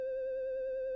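A Serum sine lead preset with pitch modulation and a little distortion, heard as one steady, pure electronic tone with faint harmonics, sustained alone for about a second.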